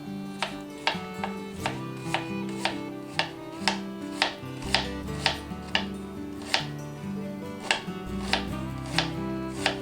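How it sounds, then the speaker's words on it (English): A knife cuts fresh lamb liver into strips on a board, a steady run of crisp, evenly spaced chops close by, with a low hum underneath. "I'm just going to cut these into some nice little strips here."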